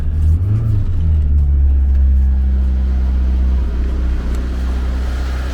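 A freshly rebuilt Fiat Uno engine running loud and close, a steady low rumble with a couple of rev swells, no voices over it.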